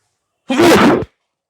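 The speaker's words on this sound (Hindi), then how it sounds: "लिटरली लाइफ में पहली बार इतनी छींकें एक साथ आई है" A single loud, close sneeze bursts out sharply and ends within about half a second, with no talking around it.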